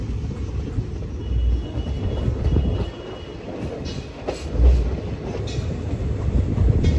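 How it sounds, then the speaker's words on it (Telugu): A Salsar Express train rolls into Churu Junction station, the steady rumble of wheels on rails punctuated by squeals and clattering over points, heard from aboard the train. "స్టేషన్ లోపలికి ఎంటర్ అవుతుంటే అటు సైడ్ ఒక ట్రైన్ ఉంది."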